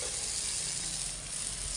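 Cowpeas (vanpayar) being stirred and roasted in a pan give off a steady, close sizzling hiss that runs unbroken for the whole brief stretch, with no voices.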